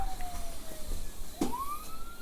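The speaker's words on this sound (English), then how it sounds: "Police car is pulling up" A police car siren sweeps upward as the vehicle arrives on a residential street, its rising wail loud and close over a low engine rumble, with no talking.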